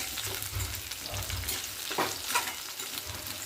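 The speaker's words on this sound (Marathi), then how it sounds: "एक पाच मिनटं लागतील हे रताळे भाजायला कमी गॅसवर" Sweet potato slices roast in a pan over low gas, giving a steady, soft sizzle with light stirring scrapes and faint crackles, close and continuous with no voices.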